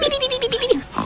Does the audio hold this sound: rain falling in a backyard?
no